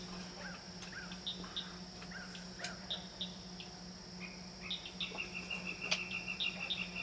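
A caged bird sings an odd, cricket-like song of short, repeated high chirps and trills, moderately near, over a steady electrical hum and faint background noise.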